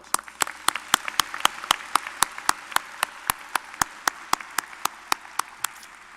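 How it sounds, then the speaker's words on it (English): Sparse, steady hand clapping from a college commencement crowd, a few distinct sharp claps in an even rhythm, fairly close and moderately loud throughout. "would you join me in a nice round of applause?"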